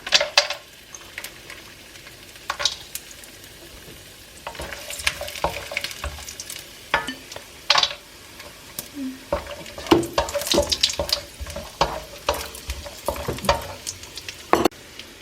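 Nuts fry in a pan for carrot halwa, giving a close sizzle broken by frequent sharp clinks and scrapes of stirring in an irregular rhythm.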